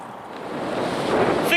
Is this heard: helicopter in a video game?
no